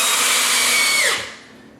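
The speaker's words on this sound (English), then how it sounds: "just make sure that these screws go all the way down into the hardy board" A power drill driving a screw into Hardie backer board, one continuous high whirring burst that winds down and stops near the end, close and fairly loud, no talk.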